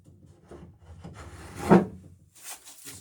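Sanding smooths saw marks off the bevelled edges of wooden boat frames in a few short, close rubbing strokes, one of them louder and harsher than the rest.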